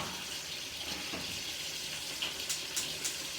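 Tap water runs steadily into a pot to rinse cranberries, a soft continuous flow with a few brighter splashy spurts near the end and no talking.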